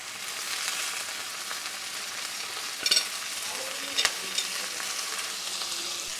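Arugula, cabbage and pak choy sautéing in a hot pan give a steady close sizzle and crackle, with a couple of brief clinks of a utensil stirring.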